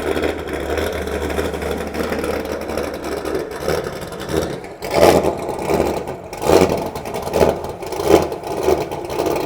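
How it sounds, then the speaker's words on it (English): An LS7 V8 engine in a widebody Corvette with a loud Corsa Extreme exhaust idles with a deep rumble, then revs in several sharp bursts, nearby. "The best exhaust you can have for a Corvette."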